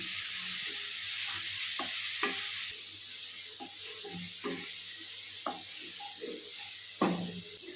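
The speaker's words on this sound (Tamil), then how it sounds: "அதை கொஞ்சமாக வதக்கிக்கிறேன்." Coarsely ground onion sautés in a pan for a lunchbox dish, giving a steady close sizzle with repeated stirring scrapes and taps of the spoon at irregular intervals.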